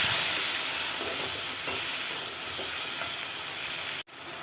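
Boiled broad beans sizzle and fry in a pan with curry leaves and onion, a loud steady hiss with occasional stirring scrapes, cutting off abruptly near the end.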